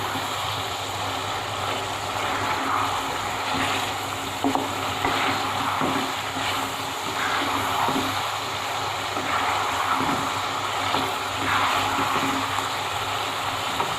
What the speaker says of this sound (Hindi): मैं इसकी बुनाई अच्छी तरह से करूँगी।